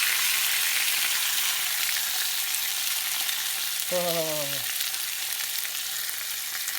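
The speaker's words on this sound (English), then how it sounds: "See, that is sizzling." A tomahawk steak sears on a hot grill with a steady, broadband sizzle running the whole time, loud and close, while a brief voiced exclamation rises over it midway.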